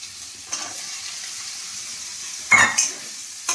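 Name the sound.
capsicum being stirred and fried with onions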